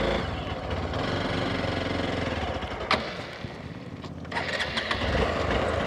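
A Hero Xpulse 200 4V motorcycle engine idles steadily after a restart, a continuous near mid-pitched rumble running through the whole stretch with a few brief louder blips along the way.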